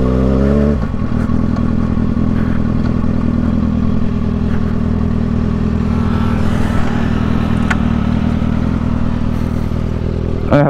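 A 2011 Kawasaki Ninja ZX6R motorcycle engine idling loud and close, a steady throbbing mid-range rumble with a few mechanical clatters and a slight rise in revs.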